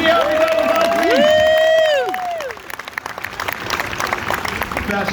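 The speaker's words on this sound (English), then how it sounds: "I'd like you to give him a big round of applause." A street-show crowd at a busker festival in Ottawa claps and cheers after a performer's call, with a loud whoop or whistle rising over the applause before the noise settles into scattered clapping and murmur.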